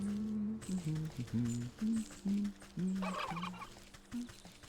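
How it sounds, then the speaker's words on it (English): Turkeys in the video game Wytchwood gobble repeatedly in quick, warbling bursts, loud and close, with a rising squawk partway through and no talk over them. "More evil turkeys."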